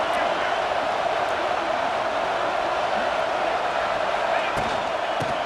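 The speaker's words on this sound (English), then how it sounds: "And here comes the noise. This crowd is trying to inspire this defense to make a big red zone stop." A football stadium crowd roars steadily during a college game between Alabama and Penn State, urging the defense toward a red-zone stop. The dense, continuous crowd noise fills the whole stretch with a few sharp peaks poking through.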